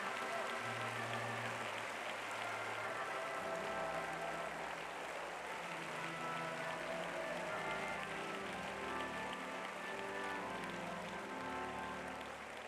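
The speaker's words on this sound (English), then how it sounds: "could we give the Lord a hand clap of praise," A church congregation claps in praise at a large worship gathering, a dense, sustained wash of many hands like heavy rain, with music playing underneath.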